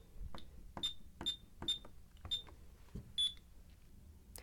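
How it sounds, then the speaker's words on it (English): A series of short, high electronic beeps from a Honeywell alarm keypad confirming a user code, about six in a row at an irregular pace, with a slightly longer double tone near the end and faint button clicks. "Upon the beep, we can hear that the code has been added."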